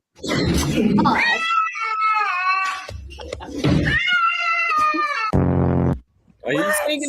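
A cat lets out long, drawn-out meows and yowls, several in a row and fairly loud, mixed with close voices talking.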